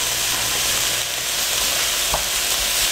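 Pork stir frying with yakisoba vegetables on a hot griddle at a local summer festival, a steady dense sizzle with scraping stir strokes throughout, close and loud.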